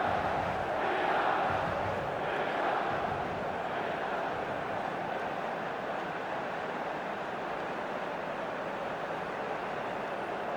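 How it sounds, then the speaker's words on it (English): A stadium crowd in the eFootball 2027 video game, during an AC Milan versus Inter Milan Champions League match, sends up a continuous broad roar that swells early and then settles into a steady, distant-sounding din. "The crowd are calling for this to be put to bed"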